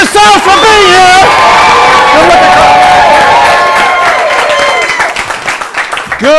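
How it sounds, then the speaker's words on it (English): A Saturday-night studio audience in Los Angeles erupting in loud applause, cheers and whoops, sustained close and dense before tapering near the end, with a host's voice over it. "Give it up for yourself for being here!"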